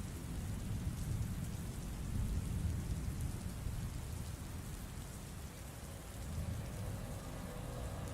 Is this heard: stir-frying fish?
no